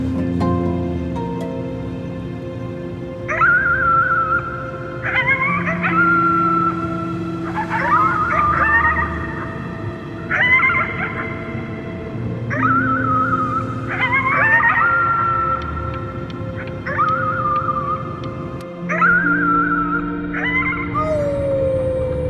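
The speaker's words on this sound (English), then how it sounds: "You howled at the moon, at the top of your lungs." Drawn-out howls rise and fall in repeated calls, several overlapping in a chorus, over a low steady background in the video game Before Your Eyes, with no talk.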